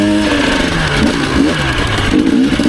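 A 2001 Honda CR250 dirt bike on a single-track trail, its two-stroke engine revving loud and close with a rough, buzzy, rising and falling tone; no talking.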